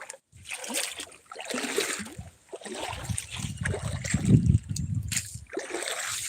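Water flowing through a farm field where floodwater has washed away a field embankment, an uneven rushing and splashing that surges and dips, close to the microphone, with no talk over it.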